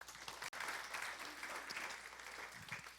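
An audience at a talk gives a dense, sustained round of applause, many hands clapping together evenly and steadily, briefly cut out near the start, with no clear voices over it.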